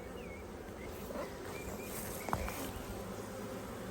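Honey bees buzzing around an apiary hive at the first inspection of the year, a soft continuous hum with passing individual bees, quiet and close, no talking.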